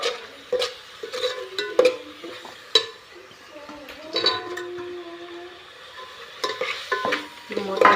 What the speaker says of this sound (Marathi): टाकून जरा हलवते